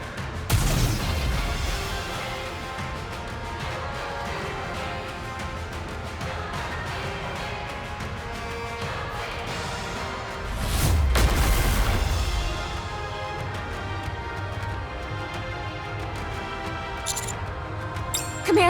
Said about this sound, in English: She's opening fire!